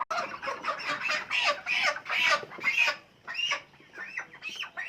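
Chickens on a poultry farm in Satkhira district, Bangladesh, cluck and squawk steadily and close by, several birds calling over one another in a busy, overlapping chorus.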